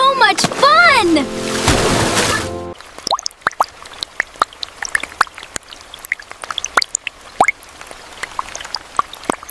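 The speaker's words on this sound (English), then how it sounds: "Look at that splash!" Water splashing in monsoon rain around an old car, a run of sharp droplet and splash hits scattered over steady rain hiss, following an opening burst of loud high-pitched voices.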